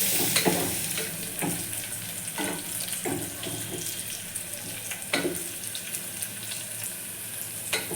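Onions and ginger garlic paste fry in a pan with a continuous sizzle, broken by several scraping stirs of a spoon at irregular intervals.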